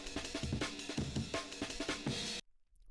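Breakbeat drum sample playing at 165 BPM in Ableton, a busy loop of punchy kicks, snappy snares and bright cymbal hits in a fast syncopated pattern, loud and close, cutting off abruptly near the end with no talking.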